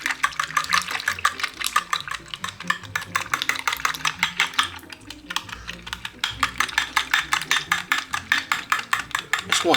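Wire whisk beating a cup of buttermilk with one egg in a bowl, a fast steady run of close, crisp clicking strokes against the bowl, briefly pausing midway before resuming.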